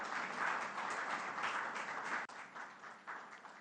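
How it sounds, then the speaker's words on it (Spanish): An audience claps steadily during a tribute to Simón Bolívar, a continuous wash of applause at moderate distance that dips briefly near the end, with no speech over it. "Mira, Nahum, no se aplaude así."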